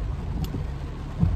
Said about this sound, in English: First of all, it's raining.